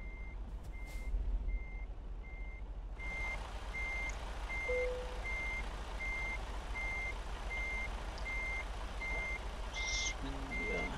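Truck reversing alarm in American Truck Simulator, a steady evenly spaced beep repeating throughout against a low engine rumble, with a brief hiss and clunk near the end as the rig backs toward pallets.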